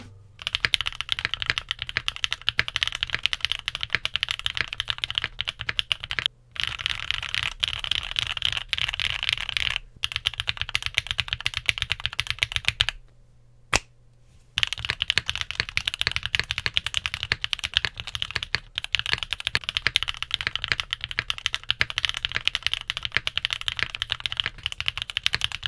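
Gateron Cream Soda mechanical keyboard switches, factory lubed and then fully lubed with Krytox 205G0, typed on in a steady, dense stream of close clacks with brief pauses and no speech.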